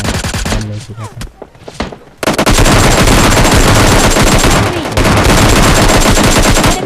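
Rapid automatic gunfire rattles loudly and densely during a fight in PUBG Mobile Lite, with a brief lull of scattered shots before sustained bursts resume and continue to the end.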